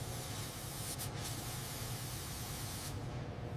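A spray gun lays down the first coat of paint on a heavy truck being restored, a loud, steady close hiss that runs nearly unbroken with slight shifts in tone.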